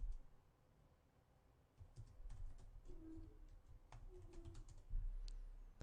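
A name is typed on a computer keyboard in a quick, quiet run of soft keystrokes, close but faint, with no talking.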